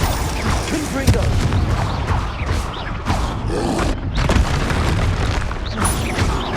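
Booming spell blasts in Hogwarts Legacy from the Confringo blasting curse, part of a dense stream of combat effects with repeated bursts and impacts and a voice speaking throughout.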